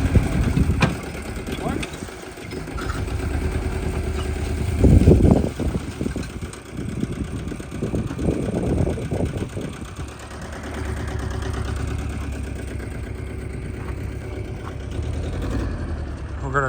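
A car engine idles steadily through its exhaust, a low rumbling drone running the whole time, with a few louder bursts and people talking over it partway through.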